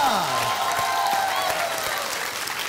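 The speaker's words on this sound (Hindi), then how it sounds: "तालियां।" Steady applause from a large audience fills the whole moment, loud and continuous, with a faint musical tone gliding underneath.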